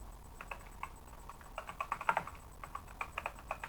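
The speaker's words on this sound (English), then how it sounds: "you're gonna hear that because I love my keyboard and it does the clicky clackies." Clicky computer keyboard being typed on in uneven bursts of sharp, close keystrokes, sparse at first and then quicker and denser, with no voices.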